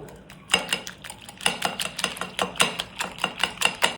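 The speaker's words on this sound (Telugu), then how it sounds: "కారము, గరం మసాలా యాడ్ చేసుకొని బాగా బీట్ చేసుకుందాము." Egg mixture with chili powder and garam masala being beaten briskly in a bowl, a steady run of sharp clinking strokes close up, about two per second, with no voices.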